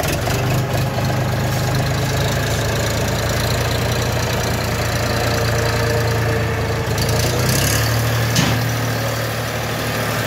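A small farm machine's engine runs continuously after its front drive is engaged, giving a loud, close, low rumbling chug that stays steady throughout with a faint knock.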